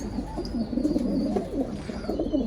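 Pigeons coo in low, throaty, repeated phrases, close and fairly soft, with no talking.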